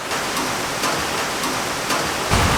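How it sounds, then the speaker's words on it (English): Heavy rain pours steadily in a hilly area, a dense, even hiss of falling water that stays loud throughout, with a slightly heavier burst near the end. "see this as a very heavy rain"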